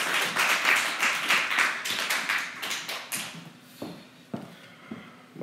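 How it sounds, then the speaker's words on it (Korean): A church congregation claps to welcome a pastor to the pulpit, starting as brisk, full applause and thinning out to a few scattered claps by the end. "기대하는 마음으로 우리 큰 박수로 환영하겠습니다"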